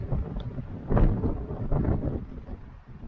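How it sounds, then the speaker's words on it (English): Strong wind gusting across a lake campsite near a canvas tent, a broad steady roar with a louder buffeting surge around one second and rumbling gusts through the rest, no voices. "We're waiting for this wind to stop so we can go fish."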